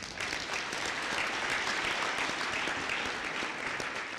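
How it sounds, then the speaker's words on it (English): Sustained, dense applause fills a graduation ceremony for new graduates, a steady wash of many hands clapping at even loudness with no voices over it. "you deserve a big round of applause"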